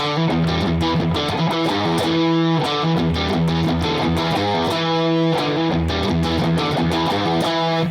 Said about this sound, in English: the main lick, we're going to play with our slide on our middle finger